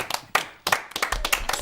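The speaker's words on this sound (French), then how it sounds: "On peut les applaudir." A small audience claps for performers after an oldie song, short bursts of hand claps that start, pause and pick up again, close and lively, alone without talk.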